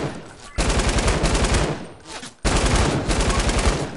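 Gunfire in a PS4 video game, two long loud bursts of rapid automatic fire with a short break between them, close and dominant.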